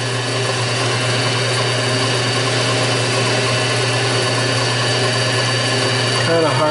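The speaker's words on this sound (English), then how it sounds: "I'm using cut-off tool just to square up my edges" A lathe cut-off tool squares up the edges of a Hoglet cylinder, giving a continuous whirring machine drone with a steady hum, close and sustained throughout.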